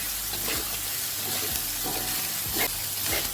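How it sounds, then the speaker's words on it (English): Pineapple rice with sauce stirred in a frying pan: a steady sizzle with a regular scraping stroke roughly every half second, close and even throughout. "And then you stir"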